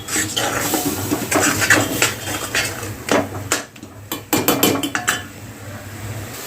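A spoon scrapes and clanks in a cooking pan while ground spice paste is stirred and mixed in oil for a Maharashtrian bean curry, with irregular metallic taps and scraping strokes, close and fairly loud.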